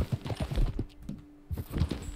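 Horse hooves in the video game Red Dead Redemption II clip-clop in a quick, uneven rhythm, pausing briefly before resuming, crisp and close.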